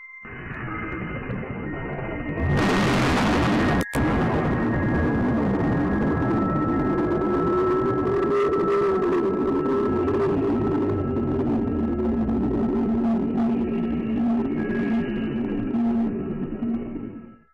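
A sudden booming volcanic eruption blast erupts into a sustained, roaring rumble with a steady droning hum, heard from a distance with no voices.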